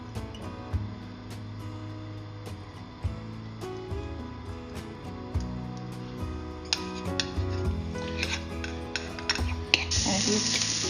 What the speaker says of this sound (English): First of all, add a little bit of oil to the pan.